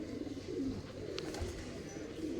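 Faint low cooing of pigeons in a loft, soft and continuous with a couple of brief sharper sounds in the middle.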